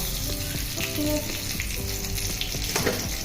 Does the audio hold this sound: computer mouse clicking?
no